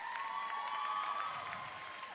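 A crowd at a roller derby bout applauds and cheers for a team, a faint, distant wash of clapping that holds steadily throughout.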